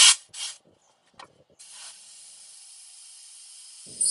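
Compressed air from an air hose blasts through the main fuel line of a 1967 Lincoln, a steady loud hiss lasting several seconds after a couple of short bursts, close by with no talk over it.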